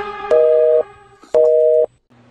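A telephone line giving a busy or dead tone: two long, steady beeps about a second apart, loud and clear, followed by a faint fading tail with no voices.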